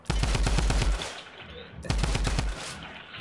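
Video-game gunfire rattles out in two close, loud rapid-fire bursts, each lasting about a second, separated by a brief pause.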